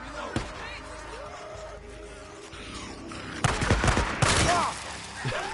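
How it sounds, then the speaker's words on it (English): Gunfire from the video game Days Gone: several sharp shots and bursts, moderately loud, sounding near, over a continuous game ambience. "the gunshots sound entirely like they're coming there"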